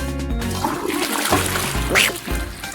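A toilet flushes up close, a loud rush and gurgle of water with splashing and trickling that swells and then fades over a few seconds.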